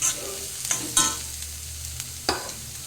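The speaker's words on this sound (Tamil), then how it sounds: "கேரட்டை போட்டு கொஞ்சம் வேக விட்டு எண்ணெயிலே வதக்கி கிண்டி" Carrots sautéing in oil in a pan, a soft continuous sizzle broken by a few distinct stirring scrapes and clinks, close and without talk.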